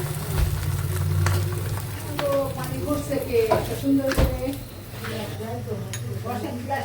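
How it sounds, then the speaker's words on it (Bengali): Paratha frying with a little oil in a pan on a home stove, a steady sizzle with scattered clinks and scrapes of utensils against the pan, while a person talks over it throughout. "পরেটা ভেজে নিচ্ছি যে হালকা হালকা তেল দিয়ে"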